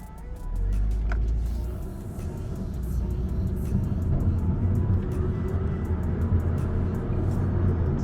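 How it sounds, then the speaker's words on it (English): A 2007 Mazda 3 with an automatic transmission coasts and downshifts as the foot comes off the gas, giving a steady, close engine and road drone from inside the cabin with a low rumble that shifts partway through. "Foot's off the pedal, gas pedal, foot's off the gas pedal, it shifts down."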